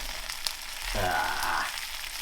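An egg-in-a-hole sandwich, bacon, cheese and onion, hits a hot frying pan after a flip, and a loud sizzle swells up for about a second before settling back to a steady, fainter fry.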